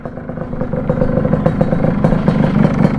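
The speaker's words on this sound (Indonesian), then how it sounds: "Kalau suara mesinnya awak-awak ini nggak apa-apa, nggak masalah ini." Motorcycle engine set up for racing, running close with a rough, uneven idle that clatters and rises slightly in level, steady burbling pulses throughout.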